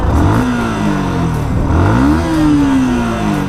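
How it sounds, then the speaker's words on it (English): A Yamaha R15 V2 motorcycle fitted with an Akrapovic full system exhaust revs up and down with no one talking, rising to a high-pitched whine, dipping back, then climbing and holding a steady high note at close range. "you have to remind yourself that the engine is still on by revving it out"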